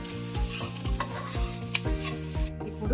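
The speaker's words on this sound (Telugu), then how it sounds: "ఇప్పుడు కొద్దిగా జీడిపప్పు, చిన్నగా కట్ చేసుకున్న క్యారెట్ వేసుకుని కాసేపు ఫ్రై చేసుకోవాలి" Cashews and finely chopped carrot frying in a pan, a close sizzle under rhythmic scraping of a spatula stirring every half second or so, with no voices.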